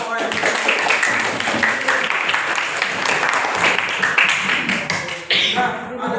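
A classroom audience applauds a student group after a teaching practice presentation, with dense, steady clapping for several seconds that thins out near the end, with voices mixed in.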